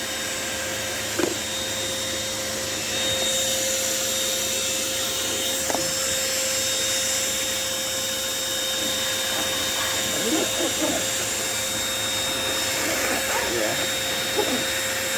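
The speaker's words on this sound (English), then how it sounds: "So I'm gonna get the car vacuum, guys." Handheld car vacuum cleaner running in a customized Toyota Succeed, a steady high-pitched motor whine with brief scraping bumps as it moves over surfaces, and someone speaks briefly over it.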